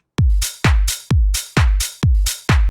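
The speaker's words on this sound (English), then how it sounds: "And then I did a bit of hi-hats and some claps." Kick drum on every beat with bright hi-hats and claps layered between, a driving dance pop drum loop repeating six times, loud and close.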